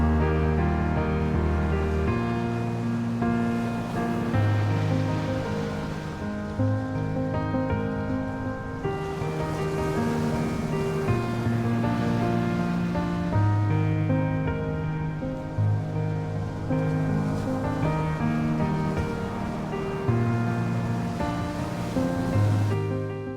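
Ocean waves surge and wash against the jagged cliffs and rocks at Nugget Point on New Zealand's South Island east coast, a steady, loud roar of surf with slow swells, no voices.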